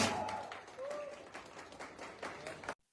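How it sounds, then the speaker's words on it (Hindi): At a poster launch for the Chhattisgarhi film Beauty Parlour Wali Bahu, a small audience claps quietly, the scattered applause with a voice or two mixed in before cutting off abruptly near the end. "जोरदार तालियां चाहिए।"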